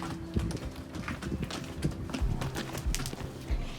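A pony named Mia walks on a hard surface, her hooves clip-clopping in an uneven series of close knocks over soft background rustling.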